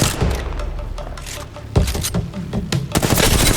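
Bursts of video game gunfire, with rapid volleys and sharp single shots mixed with heavy thumps and booms in a loud, chaotic battle.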